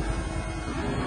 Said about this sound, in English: That was the sound of the war rider.